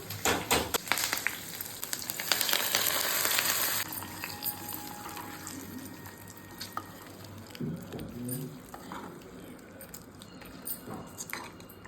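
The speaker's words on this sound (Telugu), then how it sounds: "ఇవన్నీ పోపు వేగాయి. కరివేపాకు వేసుకున్నాము." Curry leaves and tempering spices fry in hot oil in a kadai for a bottle gourd dal, crackling loudly for a few seconds before settling into a softer, steady sizzle.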